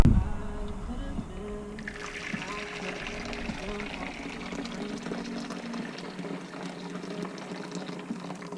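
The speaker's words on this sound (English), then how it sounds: "we're just going to pour some water in a bowl and heat up our sponges" Warm water pours steadily into a bowl for a facial treatment, a continuous close splashing and filling sound with a voice speaking over it.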